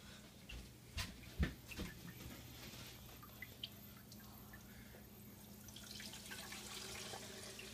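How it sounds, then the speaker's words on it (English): Water poured into a kitchen blender for a children's frog-in-the-blender song. A faint trickle runs throughout, with a few soft drips and splashes near the start, quiet and distant. "pour your water in"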